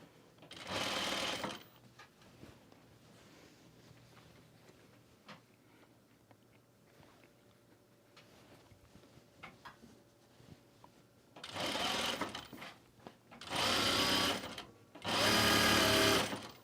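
A sewing machine stitches the lower front pieces of a garment in a quiet room: one loud whirring run at the start, a long near-silent stretch, then three more runs close together near the end.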